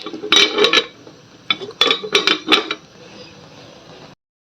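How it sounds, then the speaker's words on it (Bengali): A metal lid is set on a cooking pot of duck meat, producing a cluster of bright clanks and rattles in two bursts, close and fairly loud, then falling quiet. "আমি ঢাকনা দিয়ে দেবো"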